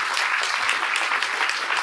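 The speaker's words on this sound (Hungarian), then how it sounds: "Adjunk egy úrnak egy nagy, nagy, nagy, nagy, nagy tapsot" A congregation applauds at a church gathering after a closing prayer, continuous even clapping from many hands, fairly distant and sustained throughout.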